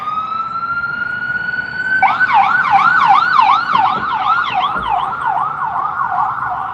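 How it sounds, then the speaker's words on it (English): A loud ambulance siren, heading to a wreck, holds a steady wail, then switches to a fast rising-and-falling yelp that continues close by. "So here we have an ambulance."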